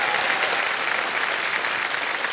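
Dense, steady applause from a studio audience on the quiz show Kaun Banega Crorepati, welcoming a contestant's family, sustained at even loudness throughout with no voices over it.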